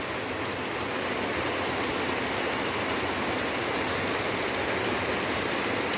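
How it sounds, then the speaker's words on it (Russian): Calm, windless rain falls steadily on garden plants, making an even, unbroken hiss that stays constant throughout with no voices. "Вот то ли дело спокойный дождичек без ветра"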